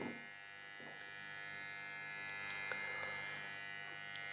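A jump starter and charger unit runs with a faint, steady electrical buzz and hum, close and alone, with a few tiny clicks.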